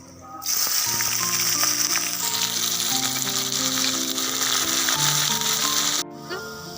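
Chopped onion, garlic and green chili hit hot oil with cumin and set off a loud, sudden sizzle that fills the pan, holds steady for several seconds, then cuts off abruptly as the heat drops.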